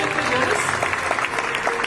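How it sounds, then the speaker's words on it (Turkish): Audience applause at an award night, a dense steady patter of clapping at moderate level filling the whole stretch with no break. "Coşkun Sabah da kocaman bir alkış."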